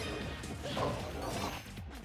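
Sonic lands an up smash attack in a Super Smash Bros. match, a sharp impact in the middle of busy game effects and crowd-like noise, with loud overlapping game sounds throughout.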